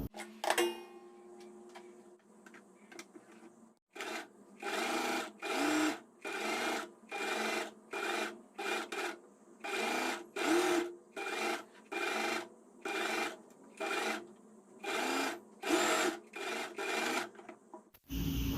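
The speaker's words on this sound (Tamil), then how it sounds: "அதை வந்து தைக்க போகிறோம்" A sewing machine stitching the neckline seam of a frock fabric, running in about sixteen short rhythmic bursts separated by brief pauses, close and clear with no talking.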